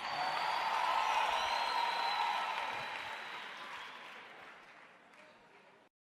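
A large church audience of nearly a thousand in Soweto, South Africa applauds at a leadership gathering, a broad wash of clapping that starts loud and gradually fades before cutting off.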